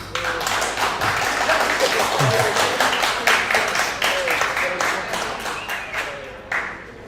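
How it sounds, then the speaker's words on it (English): A room full of people claps for the Buffalo Bills, with brisk, fairly close applause at first that thins toward the end, and a few voices underneath. "Round of applause."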